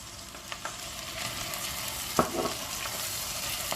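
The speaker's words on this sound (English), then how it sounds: "Increase the flame and I'll add the chopped onions." Chopped onions sizzle softly in two tablespoons of hot oil over a high flame, made as a base for butter chicken. A steady, fairly faint frying hiss plays with one sharp tap of a utensil.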